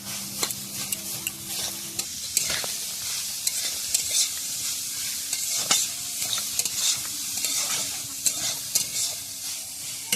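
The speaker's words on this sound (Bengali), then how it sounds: "এবারে হালকা করে জাল দিয়ে আস্তে আস্তে করে ভাজতে হবে" Cauliflower frying with grated coconut and turmeric in a pan, a steady close sizzle broken by frequent stirring scrapes and clinks of the spatula.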